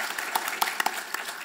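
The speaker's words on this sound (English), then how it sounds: "Let's please give her a big round of applause." Audience applause at a NASA Exploration Systems update event, a brief dense wash of clapping from a seated crowd with a few sharper claps standing out, steady and moderately loud throughout.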